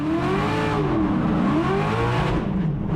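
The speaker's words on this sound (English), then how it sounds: "Here you need to floor it and lift off any brake to get to the filling that end zone." A race car engine accelerating hard during a drift run, loud and close, with rising and falling revs sweeping across the whole stretch and no voices.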